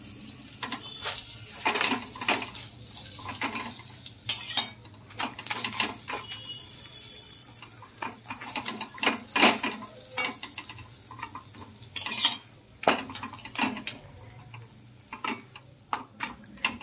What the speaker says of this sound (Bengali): আগে দেখো কড়াইয়ের মধ্যেই একেবারে ভেজে নিচ্ছি